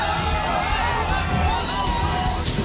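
Dense crowd noise at a public appearance by PM Modi in Ahmedabad, a steady wash of cheering, whoops and children's shouts that stays loud and continuous throughout, with no single voice standing out.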